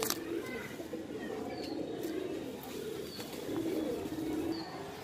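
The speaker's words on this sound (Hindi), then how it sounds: "ये है पांच नंबर का कबूतर।" A Punjabi Malwai pigeon coos in soft, low, repeated murmurs close by, with faint chirps and a light background hiss.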